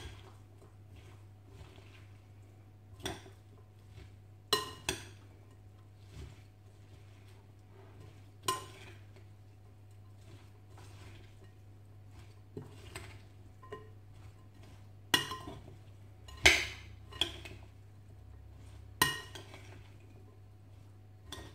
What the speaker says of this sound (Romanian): Voi amesteca foarte bine totul.